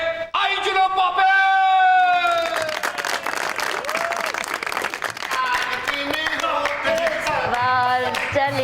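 A studio audience breaks into loud, sustained applause with whoops and cheers on a Pakistani comedy show, the clapping swelling after a voice and continuing thickly under shouted talk.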